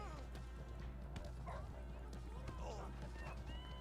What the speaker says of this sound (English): It's a fake video game dog.